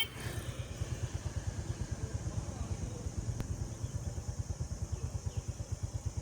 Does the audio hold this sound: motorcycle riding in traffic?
yes